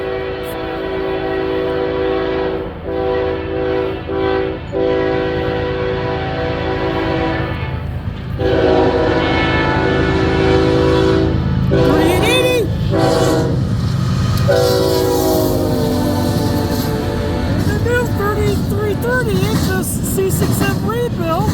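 A CN freight train, M357, passes close by at Ladysmith with its horn blaring in long loud blasts, then a rumbling, clattering roll of cars; someone talks over the passing train.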